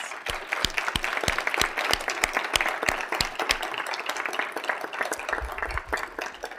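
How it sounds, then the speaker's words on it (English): An audience at a community forum in the Sioux Falls area applauds elected officials steadily for several seconds, many hands clapping at once in a dense, even patter. "Let's give our elected officials a round of applause."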